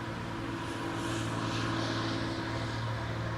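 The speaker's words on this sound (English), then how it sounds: "There is so much traffic on our road today. I don't know if you can hear it. That's a tractor right there." A tractor passes on a rural road beside a home garden patio, heard as a steady low engine drone with a tonal hum that holds evenly and fairly faint throughout, with no voices.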